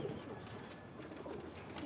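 Domestic pigeons coo faintly and intermittently as they return one by one to a loft trap, with soft low murmurs barely above a quiet, steady background hiss.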